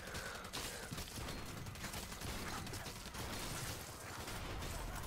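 In the Drawn to Death video game, a turret fires in rapid, continuous bursts of rattling, mechanical gunfire that fill the whole stretch at moderate loudness, with no clear pauses.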